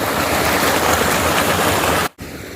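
Floodwater after heavy rain pours down from the fields above, coming from the direction of the forest, as a loud, dense, continuous rush of water that cuts off abruptly near the end.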